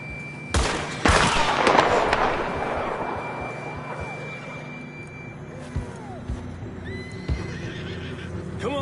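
A horse from the video game Red Dead Redemption whinnies loudly near the start, followed by hoof clip-clops and scattered sharp bangs over a low game ambience.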